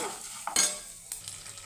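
Cumin seeds and curry leaves sizzle in hot oil for a tempering, a close, soft crackling fry with a couple of sharp spoon scrapes against the pan.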